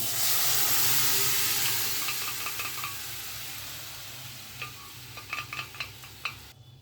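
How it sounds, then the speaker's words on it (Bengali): Boiled-egg tarka tipped all at once into a hot pan gives a strong, steady sizzling hiss that slowly fades, followed by a few sharp clinks and scrapes of stirring near the end. "এখন ওই সেদ্ধ করা তরকাটা ঢেলে দিচ্ছি"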